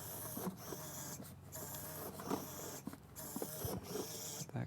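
A small make-do screw being driven into cardboard, giving faint, soft ratcheting clicks and scraping creaks in short repeated bursts, quiet and close.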